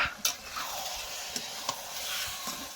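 A big rui fish head frying in a pan for muri ghonto, giving a steady close sizzle with a few soft stirring clicks and scrapes, no talk over it.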